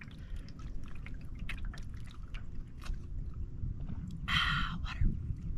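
Plain water is poured near the end, a short bright splashing gush rising over a low rumbling background of scattered clicks and handling noises, heard close with no talking.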